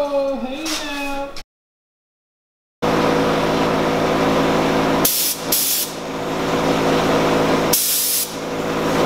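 Spray gun on an air line priming the engine bay of a Nissan S14 Kouki in a garage: a loud, steady hiss starts after a short silence, with brief surging bursts, preceded by a short whining tone.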